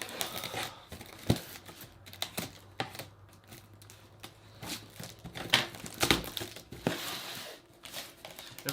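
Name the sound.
opening cardboard box packaging of airsoft gear with scissors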